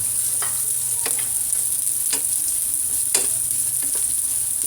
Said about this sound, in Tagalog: Halo-haloin lang po natin para magpantay yung pagkaluto